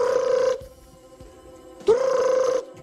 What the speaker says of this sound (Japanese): 電話が鳴った。